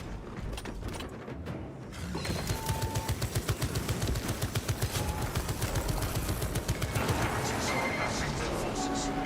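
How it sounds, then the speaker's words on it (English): Video-game turret fires a fast, steady stream of rapid shots, loud and continuous for several seconds while mechanical game noises and background sounds layer around it. "I guess let's use our turret."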